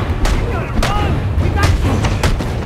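Gunfire in Batman: Arkham Origins on Wii U, a run of loud booming shots and blasts in quick succession over a dense game soundtrack, with someone talking excitedly over it.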